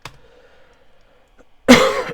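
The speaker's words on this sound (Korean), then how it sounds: "계속 기침을 하네." A single harsh cough from a man with a slight head cold, close and loud after a second of near silence with faint background noise, no talking.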